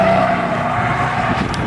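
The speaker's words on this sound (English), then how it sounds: "Und heute gehen wir mit dem RS6 mit 730 PS auf die Autobahn" An Audi RS6 with 730 horsepower on the German Autobahn, a loud steady engine roar with a rising whine near the end, heard from close by.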